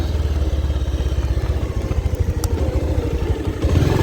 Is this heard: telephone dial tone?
no